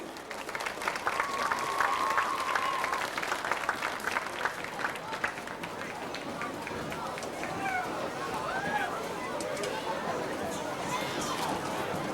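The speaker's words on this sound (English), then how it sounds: "please, a warm round of applause for our 2002 Upper Dauphin Area Homecoming Court" Sustained applause and cheering from a large outdoor crowd at a high school football game homecoming, steady and broad, with chatter mixed in.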